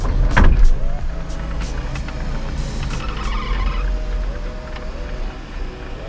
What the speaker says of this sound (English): if you guys listen to the sunroof when it opens, it still sounds pretty noisy